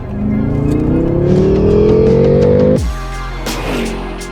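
A BMW F10 M5 revs hard as it accelerates in second gear from 3,000 RPM, pitch climbing steadily before an abrupt drop as the throttle lifts, followed by lower rumbling.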